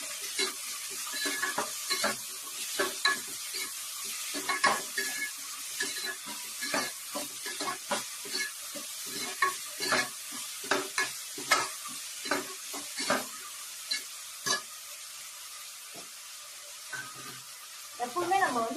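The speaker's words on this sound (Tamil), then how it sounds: "4 மீடியம் சைஸ் வெங்காயம் சின்ன சின்னதாக கட் பண்ணி சேர்த்துடலாம்." Small-cut chopped onions, four medium-sized, sizzle steadily in a pan of hot oil, with a spoon stirring them in repeated bursts over the continuous frying hiss.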